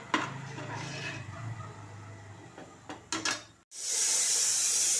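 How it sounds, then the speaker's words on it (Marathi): A spoon clatters and scrapes around a pan of ground masala paste, and then a sudden loud, steady hiss rises as water meets the hot paste, close and without talking. "तर छान मिक्स करून घ्यायचं आहे पाणी घालून।"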